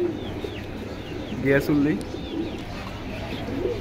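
Pigeons at a pigeon market in Keraniganj, Dhaka, give soft, repeated cooing calls, with one fuller coo in the middle, beneath nearby talking and light market bustle.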